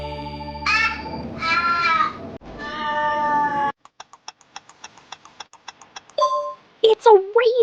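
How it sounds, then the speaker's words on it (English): Raven calls in an animal-sound sequence, a run of sharp, clicking knocks followed by two or three loud, harsh croaking calls, heard after earlier tonal, voice-like sounds. "It's a raven!"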